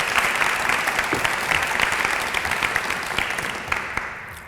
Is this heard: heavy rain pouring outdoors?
no